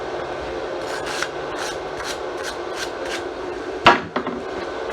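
A wire brush scrubbing across a flux core weld bead from a Harbor Freight flux welder, a run of close rhythmic rasping strokes ending in one sharper scrape, with no voices.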